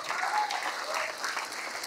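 Audience applause fills a NEET PG event hall in Delhi, a steady, dense patter of many hands clapping at once, close and sustained throughout without pauses.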